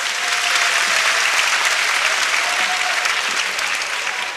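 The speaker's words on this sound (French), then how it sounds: "Je voudrais qu'ensemble, qu'on puisse les acclamer de la manière la plus forte." A large audience claps loudly and steadily for the group Sonoko at a university cultural final, the applause dense and sustained throughout with no pause.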